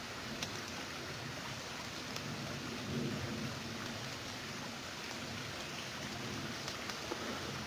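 Steady rain pattering through trees, a dense, even hiss with scattered drops and a low rumble underneath, continuous and fairly close, with no voices.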